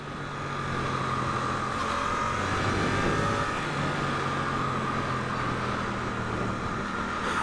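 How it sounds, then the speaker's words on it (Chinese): A Suzuki GSX-8S motorcycle rides along with a steady, loud engine drone mixed with rushing wind noise. Gear changes are not clearly distinct. "好，我现在降档，它大概要到过5000转的时候，整个动力的输出才会比较顺。"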